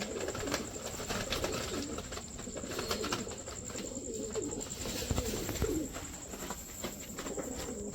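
Pigeons coo softly in a bird loft. A steady high whine and some rustling run underneath, and there is no clear talking.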